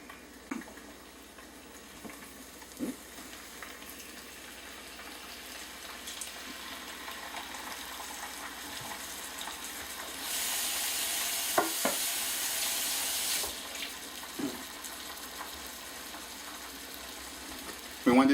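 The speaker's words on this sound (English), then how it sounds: "we want to take our chicken and put it in the skillet" Chicken sizzles quietly in olive oil in a hot skillet, with occasional clinks and taps of utensils and a brief burst of louder frying partway through.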